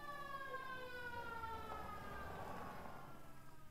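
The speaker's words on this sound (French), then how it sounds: "n'écoutez pas la sirène, sinon après vous allez aller vers elle" A siren in the video game Conway: Disappearance at Dahlia View wails with a gliding, rising and falling tone over a low rumble, steady and fairly prominent throughout.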